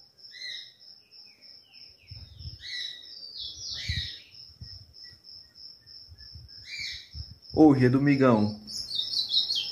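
Soft bird song of repeated high chirps and short warbles from a five-month-old ultramarine grosbeak, fairly quiet and close, with someone speaking briefly near the end.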